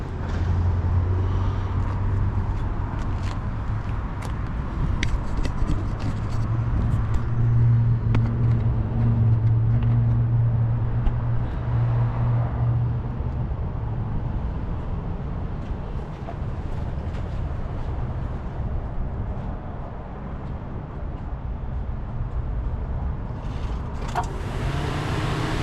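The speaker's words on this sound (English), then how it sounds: "We're gonna do a cold start here" A 1994 Honda Accord EX Wagon with a 2.2 VTEC engine and 72k miles idling after a cold start, a steady low hum with a faint whine rising briefly near the start, heard up close without talk.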